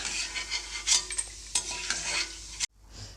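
Peanuts and roasted gram stirred in a pan over a medium flame, a steady dry scraping and rustling with faint sizzle, ending abruptly in near silence.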